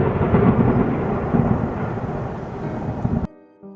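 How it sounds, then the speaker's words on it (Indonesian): Loud thunder rumbles heavily and continuously with a deep low roll, mixed with rain, before cutting off abruptly near the end. "suara petir menggelegar"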